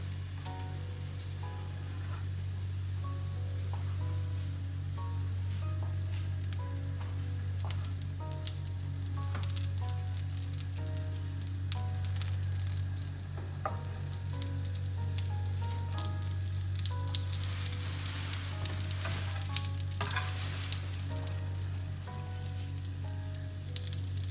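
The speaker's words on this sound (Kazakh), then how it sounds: "Енді жай отта қуырамыз." Syrniki fry gently over low heat in a pan, giving a soft, continuous sizzle with light crackles that stays steady and fairly quiet, while a faint musical background plays underneath.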